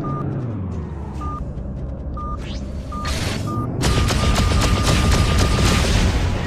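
A run of short warning beeps sounds over a low engine rumble in the space game Freelancer, then a loud blast as an incoming missile hits, followed by sustained noisy crackle and repeated beeping.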